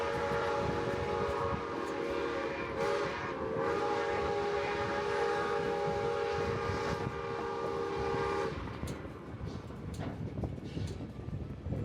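Nevada Northern Railway steam engine #81 pulls out of the yard, a sustained whistle sounding for several seconds over the steady rumble and clatter of the rolling train, heard from a flatcar, faint with no speech.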